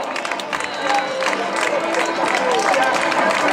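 A crowd at a town's popular footrace applauds and cheers the last runner crossing the finish line, scattered clapping that swells into steady applause, with voices mixed in over it.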